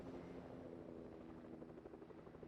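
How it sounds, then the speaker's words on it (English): A helicopter flying overhead during a Fortnite Battle Royale match gives a steady, faint rotor drone with a rhythmic thrumming pulse that persists throughout, with no voices. "I wonder if that helicopter's trying to get up to level him."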